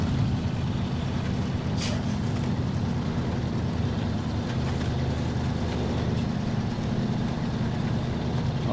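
A heavy truck engine roars at full throttle while crawling through mud in the Snowrunner video game, a loud, constant low drone that holds steady throughout with a brief hiss near the start.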